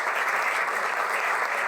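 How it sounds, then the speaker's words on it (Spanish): Steady, dense applause from an audience at a magazine launch event, welcoming a politician to the stage; the clapping stays even and close throughout with no voices over it. "Un fuerte aplauso para el diputado Chalper."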